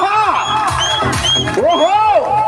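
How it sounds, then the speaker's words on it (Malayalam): A crowd at an outdoor tug-of-war match cheers and shouts with whoops, loud and close, while a voice calls over the noise. "എല്ലാരും ഒന്ന് കൈയടിച്ചു കൊടുക്ക."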